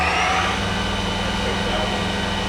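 A Yama Seiki 4-axis vertical machining center spindle spinning at high RPM gives a loud, steady mechanical whine and hum with a constant tone that neither rises nor falls.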